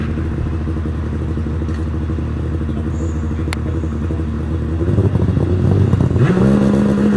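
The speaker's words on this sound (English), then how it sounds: "Revs rising, and John away from the line" An RAL hillclimb race car idles loudly on the start line at Loton Park during a Midland Championship event, then its engine note climbs sharply as the revs rise for the launch.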